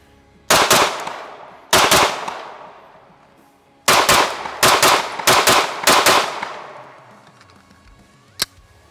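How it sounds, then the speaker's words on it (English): Sig P320 AXG Legion pistol with a muzzle brake compensator firing on a range: loud sharp shots, first two spaced singly, then a rapid string of five, each with a ringing tail, and a final distant crack. "here, you know, I'm shooting the pistol"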